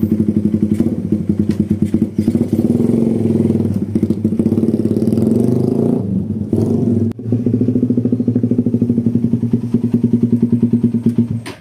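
A motorcycle engine idling and revving on a test ride after a camshaft repair, a loud close rapid thumping exhaust that dips briefly midway before resuming steadily.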